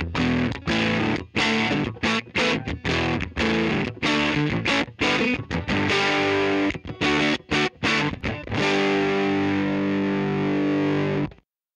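Heavily distorted electric guitar recorded with two blended microphones plays choppy chords and riffs with short gaps between them, loud and close, ending in one sustained ringing chord.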